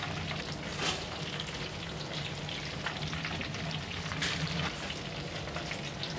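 Onion pakoda sizzle steadily in hot oil in a restaurant kitchen, a dense continuous crackle with occasional stirring, close and moderately loud with no talking.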